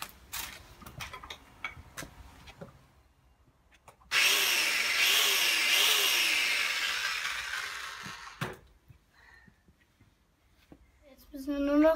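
A power sander works the corners of a wooden MiniPlus beehive part in a harsh, buzzing whir lasting about four seconds, loud and close, framed by quieter workshop clatter before and after.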